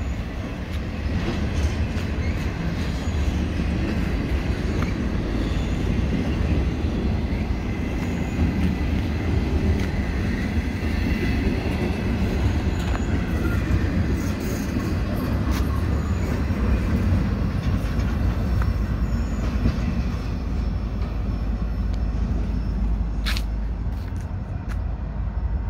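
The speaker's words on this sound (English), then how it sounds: "BNSF Intermodal train is continuing." A BNSF intermodal freight train passes through Fresno Station, producing a loud, continuous rumble and steady clatter of railcars with a faint wheel squeal, sustained throughout with no break.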